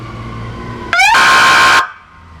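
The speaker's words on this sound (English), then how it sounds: "Tony's going to hit the horn" A single loud horn blast from the Squad 171 emergency vehicle, about a second long, opens with a brief rising tone and stops sharply, leaving low engine rumble.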